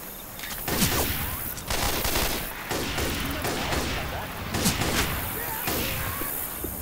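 Gunfire from the zombie shooter game Left 4 Dead 2, in the Swamp Fever campaign, with dense rapid bursts and heavy shots filling the whole stretch under a loud, continuous mix.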